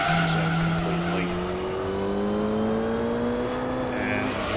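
Race car power sliding through a pair of hairpin turns on Special Stage Route 11 in Gran Turismo 3: A-Spec, the engine holding a steady rising drone with tire squeal layered over it, loud and continuous throughout.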